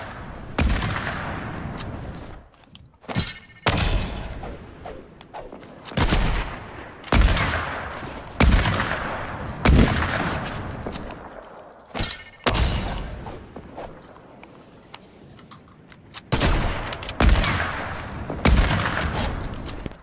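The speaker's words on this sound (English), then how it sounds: "The hunting rifle is the best because it shoots fast, so you can get multiple different shots." Hunting rifle fire in a multiplayer shooter game, a rapid string of loud sharp cracks with booming tails and short gaps between bursts, close and punchy throughout.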